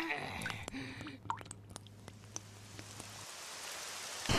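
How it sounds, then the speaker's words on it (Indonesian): Rain in an animated cartoon scene, with scattered raindrop patters and light splashes over a faint steady hiss, quiet and intermittent. "Hujan!"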